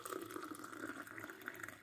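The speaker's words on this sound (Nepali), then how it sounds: "अब म यसमा पानी लगाउँछु" Water poured into a glass holding instant coffee, a steady close splashing stream with a faint ringing tone that runs the whole moment without pause.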